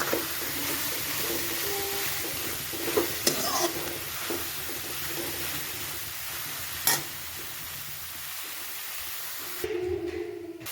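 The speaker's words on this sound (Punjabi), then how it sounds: "ਇਸ ਵਿੱਚ ਕੱਟੇ ਹੋਏ ਬਰੀਕ ਬੈਂਗਣ ਪਾ ਦਿੱਤੇ ਨੇ ਇਸ ਨੂੰ ਇੱਕ ਵਾਰੀ ਹਲਕਾ ਜਿਹਾ ਚਲਾਵਾਂਗੇ ਤੇ ਢੱਕ ਕੇ ਪਕਾਵਾਂਗੇ" Finely chopped eggplant is stirred in a pan and left to cook under a lid over medium-low gas, giving a steady soft sizzle with occasional scraping stirs and a louder clatter near the end.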